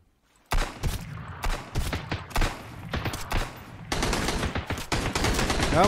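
Bursts of enemy automatic gunfire in the video game Sunkenland, loud rapid volleys after a quiet start, repeated clusters of sharp shots building into a sustained stream toward the end.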